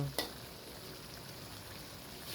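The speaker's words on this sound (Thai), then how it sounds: "ผัดต่อไปครับ ไฟแรง" Chicken offal and holy basil stir-fry in a hot pan over high heat, a steady, close crackling sizzle after a brief sharp clank at the start.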